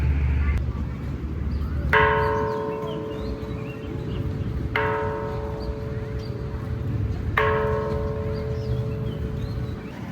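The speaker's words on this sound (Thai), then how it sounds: "ระฆังนะครับต้องตีระฆังนะครับ" A temple bell at Wat Rakhang in Bangkok, by the Chao Phraya River, rings three times at steady intervals, each strike leaving a long ringing tone over a steady low rumble of outdoor background noise.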